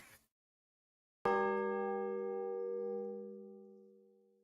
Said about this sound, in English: The bell is tolling.